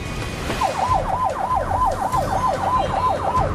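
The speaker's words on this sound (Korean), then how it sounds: "구급대원과 함께 119 구급차를 타게 됐는데" A 119 ambulance siren wails steadily in a fast rising-and-falling yelp, loud and continuous over low road rumble, with no talking.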